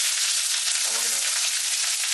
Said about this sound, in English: sear it up